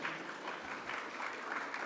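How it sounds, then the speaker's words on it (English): An audience claps for a guest named Peter at a foundation live-streamed event, a soft, steady patter of many hands held at an even level for about two seconds. "Can we get a round of applause for Peter, please?"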